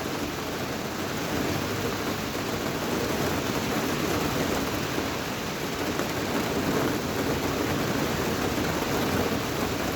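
Heavy summer rain from a Genoa low pours down over Gdynia as a dense, unbroken hiss, with deep rolls of thunder rumbling underneath throughout, loud and steady with no voices.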